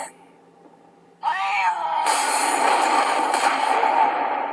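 A cat meows in an animated series episode, a drawn-out mid-pitched cry that starts abruptly after near silence and holds steadily, with a bright hissy wash layered over it.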